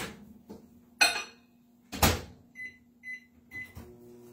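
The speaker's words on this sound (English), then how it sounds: "I'm going to just throw it in the microwave." A kitchen microwave oven melts butter for fudgy brownies: clunks and clicks of the door and handling, a low steady running hum, and a few short electronic beeps near the end.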